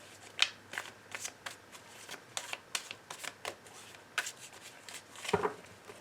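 Tarot cards being shuffled and cut, a run of quick crisp riffles and flicks at close range, ending in a fuller flurry of card noise, with no talking.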